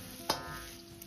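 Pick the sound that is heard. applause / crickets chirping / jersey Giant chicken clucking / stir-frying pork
stir-frying pork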